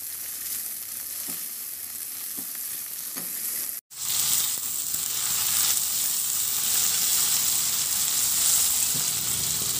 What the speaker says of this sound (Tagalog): At maglagay na rin ako ng kamatis. The same process, ihalo lang din hanggang sa maluto yung kamatis.